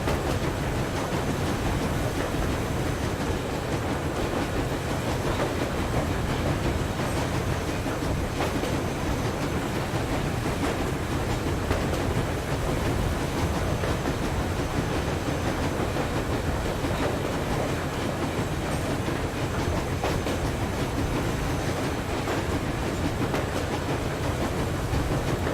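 A moving train in the video game Metro Exodus gives a continuous, dense rumble with rail clatter and hiss, steady and loud for the whole stretch, with no talk over it.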